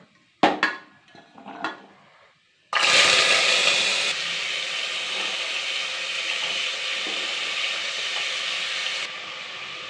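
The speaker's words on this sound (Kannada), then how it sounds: "ಕುಕ್ಕರಲ್ಲಿ ಹಾಕ್ಬಿಟ್ಟು ಸ್ವಲ್ಪ ಫ್ರೈ ಮಾಡೋಣ." Chickpeas and potatoes hit hot oil in a pressure cooker: a few light clinks, then a sudden loud, steady sizzle that holds strong for the rest of the time.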